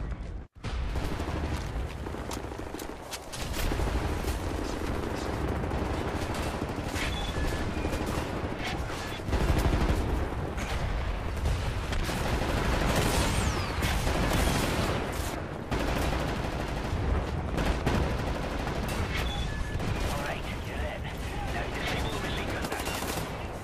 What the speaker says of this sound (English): We'll lay down cover fire from here.